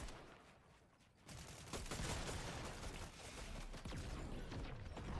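Rapid bursts of Fortnite gunfire in a competitive match, dense crackling volleys that start quietly and grow louder after a second, continuing in overlapping sprays with no talk.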